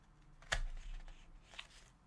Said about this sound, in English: So I am just going to take my scissors